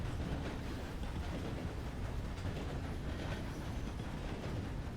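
Steady, continuous rumble of a train running in Red Dead Redemption's Sundown RP, with dense low-end clatter and hiss that hold at an even level for the whole stretch, with no voices over it.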